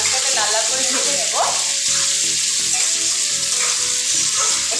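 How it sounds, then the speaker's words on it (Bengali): Cabbage and potato, seasoned with salt and turmeric, fry in a pan with a loud steady sizzle and hiss, with stirring scrapes throughout and some faint background voices. "ভালো করে বাঁধাকপিটাকে লাল লাল করে, আলুটাকে লাল লাল করে ভেজে নেব"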